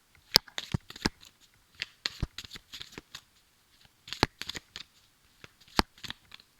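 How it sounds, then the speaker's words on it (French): Tarot cards being shuffled by hand, a run of crisp riffling slaps and flicks in irregular bursts, close and fairly loud, with brief pauses between handfuls and no talking. "je bats d'abord les atouts et ensuite je compléterai"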